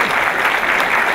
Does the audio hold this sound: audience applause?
yes